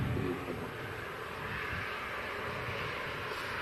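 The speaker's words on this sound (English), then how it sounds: "the Q8 A330 is just holding short of the runway" A Kuwait Airways Airbus A330 holding short of the runway gives off a steady, low jet-engine rumble and hiss at middle distance, constant and unbroken.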